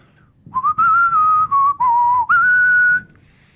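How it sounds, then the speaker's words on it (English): One person whistles a short chime-like tune, clear bright notes in a few sustained phrases with brief gaps, loud and close, with no talking during it. "you whistle the same thing 400 times a day"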